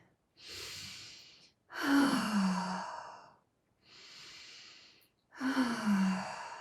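Conscious connected breathing done lying down: four long, deep breaths alternating steadily, softer inhales followed by louder, sighing exhales with a low voiced groan, close and alone.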